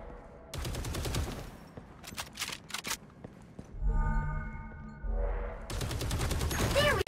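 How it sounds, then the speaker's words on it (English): A destructible wall in the Marvel Rivals video game breaks apart in several loud bursts of crashing, rumbling debris, mixed with sharp gunfire-like impacts and layered game effects. "Break through the wall to open a path forward."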